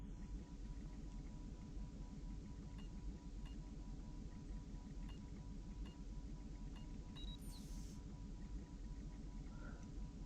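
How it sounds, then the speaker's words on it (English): Steady low electrical hum from banks of batteries in a battery room in a Splinter Cell level, a dense droning buzz with layered harmonics that holds unbroken throughout, joined by a brief higher chirp near the end. "the batteries in this room shouldn't really be loud unless they're being engaged"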